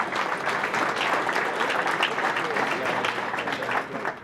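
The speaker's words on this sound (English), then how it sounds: "Let's give him a big round of applause." Audience applause at a Martin Luther King Jr. Day breakfast: sustained, even clapping from a roomful of guests, steady and fairly full throughout, with a murmur of voices mixed in.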